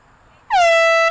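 A single loud air horn blast at a field hockey game at halftime, starting abruptly and holding one steady, piercing tone, close and unbroken.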